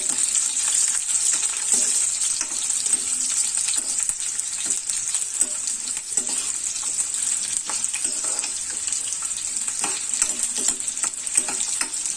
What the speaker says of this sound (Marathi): नंतर मी याच्या ज्या लसणीच्या पाकळ्या घातल्या त्याही आल्यासोबत व्यवस्थित भाजून घ्यायच्या.